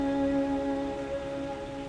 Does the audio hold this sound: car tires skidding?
no